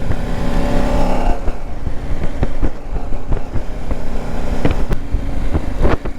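A motorcycle engine rumbles low while riding winding roads in the Vosges mountains, with wind buffeting the microphone and a few sharp knocks and bumps along the way.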